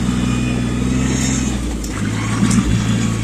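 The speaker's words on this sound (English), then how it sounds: "I love using this tractor for the hay rake." A tractor engine drones steadily and loudly at close range while pulling a hay rake, with a slight shift in pitch partway through.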